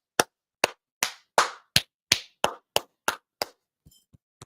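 A single pair of hands claps about a dozen sharp, evenly spaced times, loud and close, tapering off into a few softer claps at the end; a round of applause for a basketball player during a Bulls vs. Hornets game.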